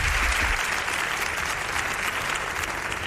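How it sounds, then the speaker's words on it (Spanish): A studio audience at a radio broadcast on paranormal encounters breaks into sustained, dense applause, loud and steady from start to finish with no voices on top. "Os pido un aplauso"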